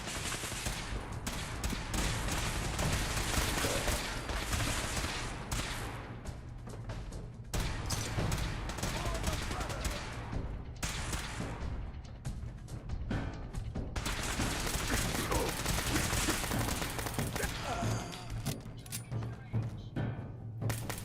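Heavy gunfire in Fallout 4 crackles in dense, loud bursts of rapid shots and explosions, nearly continuous with only brief pauses, close and harsh throughout.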